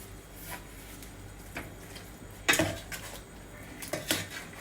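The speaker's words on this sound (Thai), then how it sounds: "เดี๋ยวตักใส่ถ้วยเลยเนาะ" Steamed chicken being ladled from a pot into a bowl, with faint clinks of utensils against the dishes and two sharper knocks, heard close over a quiet room hiss.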